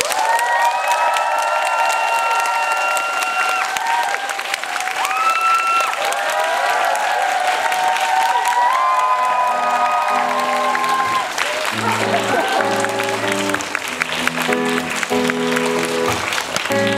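A Korean concert audience at a summer show in Yongsan applauds and cheers for a guitarist. The clapping is loud and continuous, and shouts rise through it while instruments start playing underneath toward the end.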